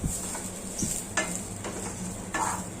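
Cumin, ginger, garlic and onion sizzle in a hot pan for a Goan clam curry, with a steady frying hiss broken by a few scraping stirs of a spoon against the pan.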